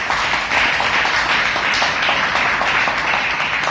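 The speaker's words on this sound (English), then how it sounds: "So a big round of applause" Applause at a Toastmasters club meeting: loud, dense, continuous clapping from a room of people, close and steady throughout without talking.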